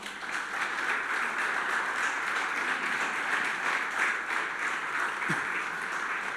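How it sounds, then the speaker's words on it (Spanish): Church congregation applauding the Lord together, a steady, dense wash of clapping that holds evenly throughout without pause. "¿Por qué no le das un aplauso al Señor?"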